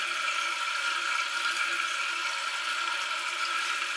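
A newly fitted antique-style water closet flushes, giving a steady, loud rush of water that continues unbroken throughout, close and alone without talk.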